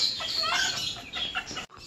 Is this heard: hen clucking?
yes